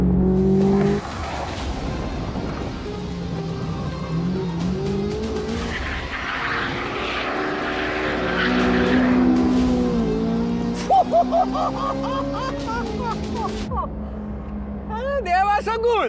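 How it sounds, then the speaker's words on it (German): A 645 PS Chevrolet Corvette Z06 drifts fast through a corner on a track, its engine roaring and revving as the tires squeal and skid at length, with someone talking over it. "Das war ein sehr schneller Drift."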